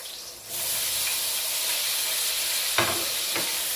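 Tomatoes go into a pot of salmon head sinigang with a sudden steady hiss of heat, followed by a couple of soft knocks and splashes as the pieces drop in.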